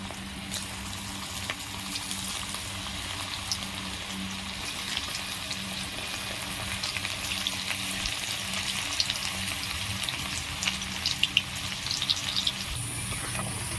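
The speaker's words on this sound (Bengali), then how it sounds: "তেল গরম হয়ে গেছে আমি এবার ফুলকপিগুলো ভেজে নেবো" Cauliflower pieces fry in hot oil in a kadai for crispy cauliflower 65, giving a continuous, even sizzle with occasional stirring scrapes, close up and without talk.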